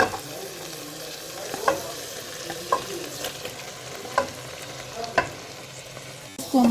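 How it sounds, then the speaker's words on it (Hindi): Marinated chicken fries in hot masala over a high flame, a steady sizzle broken by several sharp scraping clicks of a stirring spoon against the pan, fairly close with no talking. "इसको हम थोड़ा सा फ्राई करेंगे"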